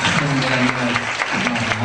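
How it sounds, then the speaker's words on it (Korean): A church congregation claps to welcome guest ministers at a Korean worship service, a dense wash of applause under a sustained voice or tone, fairly loud and continuous throughout. "박수를 크게 하시기 바랍니다."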